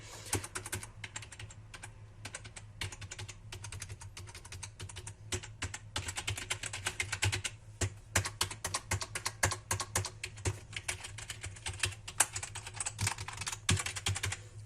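Rapid, continuous clicking of keys on an Everest KM-6825 computer keyboard, close up, with an uneven typing rhythm and bursts of faster strokes.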